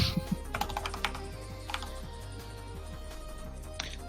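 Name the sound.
cat walking on a computer keyboard, keys clattering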